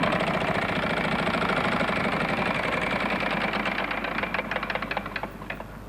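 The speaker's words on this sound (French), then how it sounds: "C'est vous qui allez lancer la roue?" A large game-show prize wheel spins on a French television set, its rapid ratcheting clicks running loud and dense, then slowing and spreading out into separate ticks as the wheel winds down.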